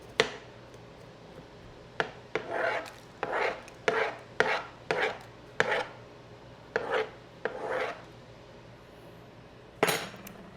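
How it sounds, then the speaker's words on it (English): A spoon scrapes the seeds out of a large jalapeño in a series of short, rasping strokes, about a dozen evenly spaced over several seconds, close and clear with no talking. "I'm just using a spoon to deseed it"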